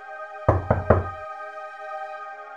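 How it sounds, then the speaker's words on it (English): Three soft, evenly spaced knocks on a door, close and clear over a quiet sustained musical tone, the raps arriving in quick succession before falling silent. "there is a soft knock at the door."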